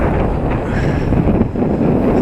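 Strong wind buffets the microphone on the snowy Kosciuszko Plateau beside a tent, a loud continuous low roar with gusty surges.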